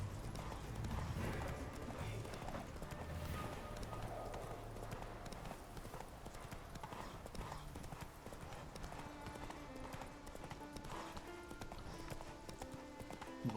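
Hooves of a horse galloping in The Witcher 3 video game beat in a quick, steady clip-clop rhythm, loud and close throughout, over a dense bed of game music and ambience.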